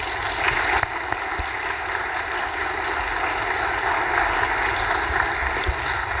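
An audience claps throughout, a dense, steady wash of applause that holds its level from start to finish without voices.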